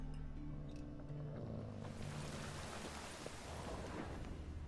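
Heavy rain with rumbling thunder in the video game The Witcher: Wild Hunt, a broad steady downpour swelling louder midway over low ambient tones, with no talking.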